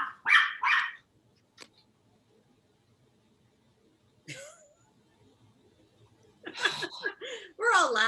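Two dogs, a small one and a large one, bark in sharp bursts while chasing a cat, with louder yaps at the start and end and a quieter stretch between; people talk and laugh nearby.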